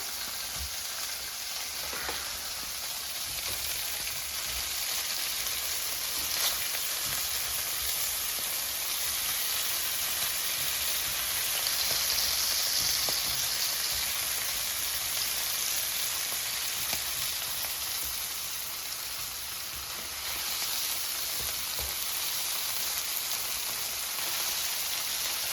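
Smelt fish frying in a pan give off a constant loud sizzle with crackling, rain-like spatter, unbroken and close for the whole stretch, with no talking.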